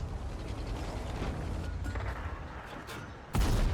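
A heavy tank-cannon blast in a video game booms abruptly near the end, loud and close, after a stretch of rumbling mechanical battle noise.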